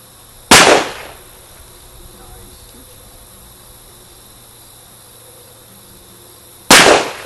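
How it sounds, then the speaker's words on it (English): Two sharp, loud gunshots from a Rossi single-action gun at an outdoor range, about six seconds apart, each with a short ringing tail over quiet background. "Nice shooting, Jack."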